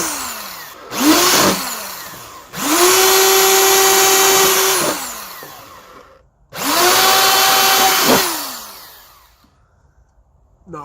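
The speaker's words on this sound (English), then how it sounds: "I like to drill 5 holes in the bottom" A power drill whirs up in two long bursts and one short one, boring holes in the bottom of a plastic jug, the motor winding up, holding steady while boring, then spinning down between holes.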